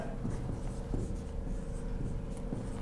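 Chalk or pen writes a polynomial on a classroom board during a class 9 maths lesson, a steady scratching and scraping that runs without pause under a constant room hum, with no voices.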